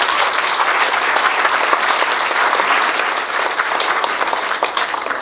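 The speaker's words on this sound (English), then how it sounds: "let's give them a nice round of applause" An audience at an athletic hall of fame induction ceremony gives the organizing committee a loud, sustained round of applause, dense steady clapping throughout with no speech.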